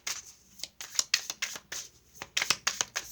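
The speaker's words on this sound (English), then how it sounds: "I'm going to go ahead and shuffle the cards here" Cards are shuffled for a card reading in a rapid, close, quiet series of crisp riffling bursts with brief pauses between them.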